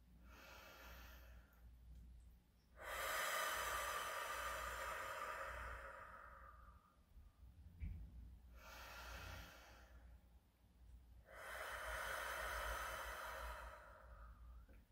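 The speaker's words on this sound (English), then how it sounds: "starting again with some nice deep breaths" Slow, deep breaths from a vocal warm-up: long airy inhales and exhales come in a relaxed rhythm, close and clear in a quiet room, with short pauses between them and no speech.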